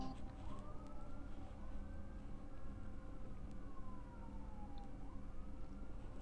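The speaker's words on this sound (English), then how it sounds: "do you hear that? There are sirens." Emergency vehicle sirens outside, faint and distant, wailing in slow rising and falling sweeps over a steady background rumble of traffic.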